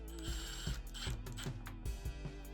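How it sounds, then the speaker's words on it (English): A driver sets Kreg pocket screws into a wood panel on a cabinet, giving a faint, steady motor whine with repeated ratcheting clicks and taps in quick rhythm. "I'm just gonna use Kreg screws."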